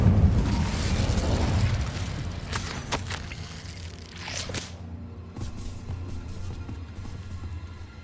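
The Incendio fire spell cast in Hogwarts Legacy erupts as a heavy rumbling burst at the start, then fades into lighter crackling pops and thuds.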